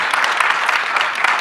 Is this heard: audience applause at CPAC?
yes